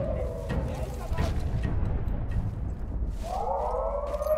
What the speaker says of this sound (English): I need to find this siren and disable the alarm.